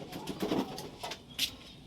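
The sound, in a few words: pigeons cooing while bathing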